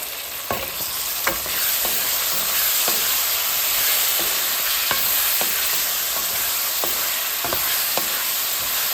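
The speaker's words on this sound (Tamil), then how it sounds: "இந்த பெப்பரை போட்டு, பனானா பெப்பர், கறிமிளகாய் இதை போட்டு வதக்கினோன்னு அந்த வாசம் வருது பாருங்க" Banana pepper and chilli sautéing in a pan as tomato goes in, a steady close sizzle broken by repeated sharp scrapes and clicks of stirring, no voices.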